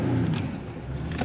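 A Jeep stuck in deep mud revs hard in first gear, its engine roaring in a steady, close, loud drone with slight surges, no voices over it.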